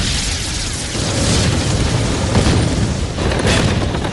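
Repeated explosions and blasts across a Pacific battlefield where Sherman tanks face Japanese Ha-Go tanks, a dense continuous roar of booms and bursts with no voices.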